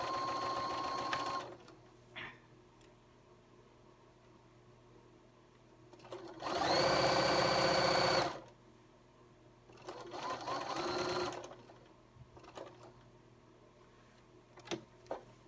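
A sewing machine sews a pocket on a lined jacket in short bursts of close, steady mechanical whirring separated by pauses with small clicks and handling sounds.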